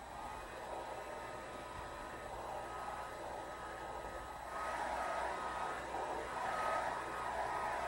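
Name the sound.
hair dryer blowing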